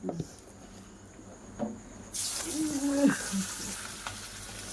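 Chicken frying in oil, a steady broadband sizzle that swells loudly partway through, with scraping stirs and light clinks close by in a home kitchen.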